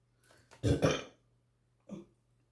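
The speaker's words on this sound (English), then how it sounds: "I need to burp." A single loud, throaty burp rumbles out close by, followed after a short pause by a smaller second one in an otherwise quiet room.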